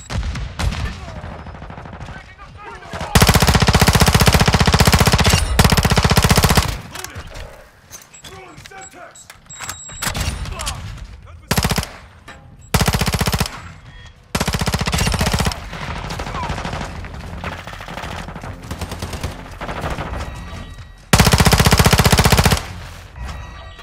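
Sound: gunfire in Call of Duty Modern Warfare 2 video game

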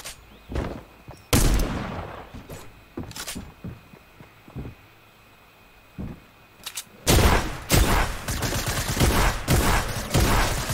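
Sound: gunfire from shooting in Fortnite video game

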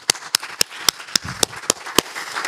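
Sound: congregation hand clapping

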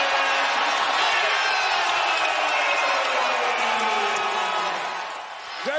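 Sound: basketball crowd cheering after Tatum dunk

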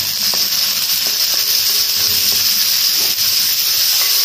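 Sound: sliced onions frying with salt in a pan

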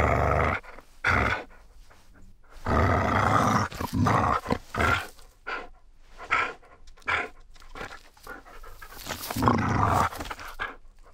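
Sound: dog growling, foley sound effect for the video game Hytale

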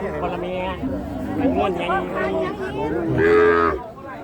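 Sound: cattle mooing at a livestock market

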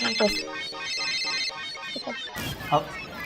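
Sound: phone ringtone ringing

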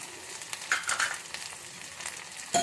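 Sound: raw mango pieces added to frying ginger paste

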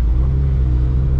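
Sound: Honda Civic EF engine driving slowly on a slushy road

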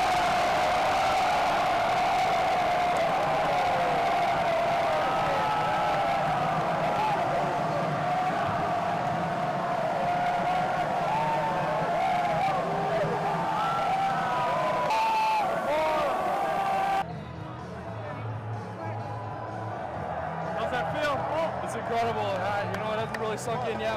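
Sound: crowd cheering after the Bison game

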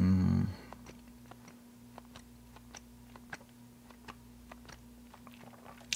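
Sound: chewing gum being chewed

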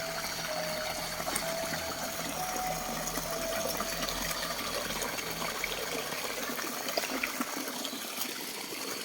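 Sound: water flowing

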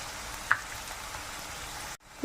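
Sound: chopped shallots sautéing in a pan

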